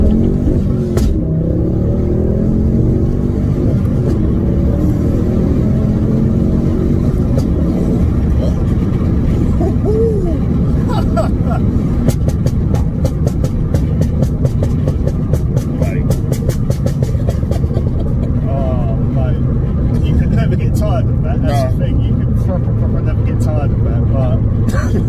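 A MK2 Ford Focus ST drives fast, its engine a loud, continuous drone that swells and pulls through the revs, with rapid crackles and pops toward the end and voices talking over it.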